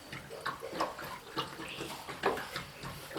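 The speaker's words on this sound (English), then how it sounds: "you can hear the water going in a lot" Steady rushing and splashing of water pouring from a hose into an IBC tank, with gurgling bursts rising and falling throughout, close by.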